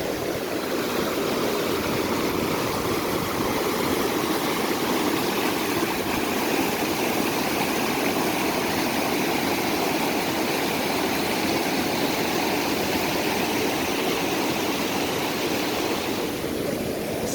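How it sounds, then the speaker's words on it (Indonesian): Strong floodwater current rushing past a washed-out road near Pagatan Besar, Tanah Laut, roaring loudly and steadily throughout with no letup. "arus air masih begitu kencang"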